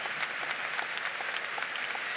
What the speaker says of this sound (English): A round of applause for the United States of America